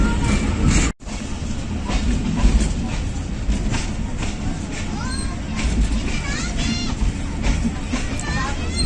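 The Rawalpindi Passenger of Pakistan Railways running on its rails, a loud steady rumble with rhythmic clattering of the wheels. A faint murmur of voices sits underneath.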